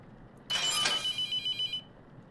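A telephone ringing in The Mortuary Assistant horror game: a single bright electronic trill of rapid pulses lasting just over a second, clear and alone over a quiet background.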